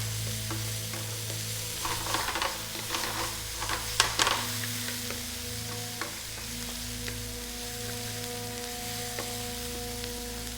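Garlic paste and black bean sauce ingredients stir-fry for Korean jjajangmyeon, giving a steady quiet sizzle over a low hum, with scattered clinks and scrapes from stirring and a brief louder clatter midway.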